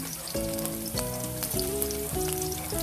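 Garlic fries in a pan at the start of cooking pork adobo, a continuous close sizzle with light crackle, while background music with sustained tones plays underneath.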